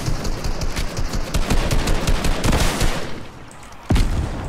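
Rockets fire repeatedly in a PC shooter game, a rapid string of sharp blasts and explosive bursts that crowd together, with a louder hit near the end, all fairly close.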